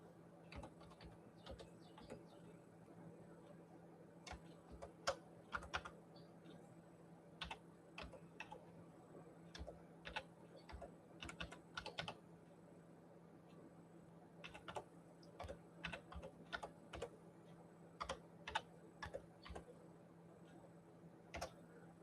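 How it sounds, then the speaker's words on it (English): Typing on a computer keyboard, close but quiet, in irregular bursts of clicking keystrokes over a faint steady hum, with pauses between the flurries. "I'll type it in."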